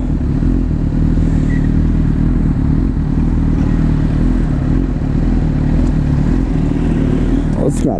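Honda CB 1000 motorcycle engine droning steadily while riding, loud and close with rumbling wind, ending in a short sharp clatter.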